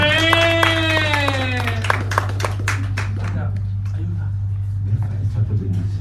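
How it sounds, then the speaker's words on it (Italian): Audience members at a comics festival talk give a short round of applause, quick claps peaking briefly after a voice and then fading into low background murmur and a steady electrical hum. "Un applauso a Simo Panella e le birre!"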